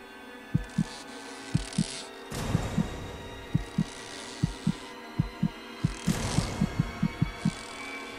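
Heartbeat effect from the horror adventure game Hayarigami 2: paired low thumps that start spaced apart and come faster and closer together over a steady low hum, with no talking.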